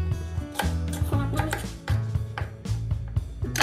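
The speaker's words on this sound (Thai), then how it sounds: "แล้วก็แชร์รี่นะคะก็เดี๋ยวจะหั่นสักนิดนึง" Knife slicing cherries on a cutting board while preparing white wine sangria: a handful of crisp, irregular chops heard close, under steady background music.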